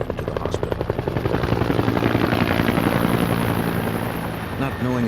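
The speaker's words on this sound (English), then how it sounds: "He was rushed outside where a helicopter waited to transport him to the hospital." A helicopter waits outside to fly a shot victim to hospital, its rotor chopping loud and close with steady, rapid thumps under a constant engine roar that rises and then eases slightly.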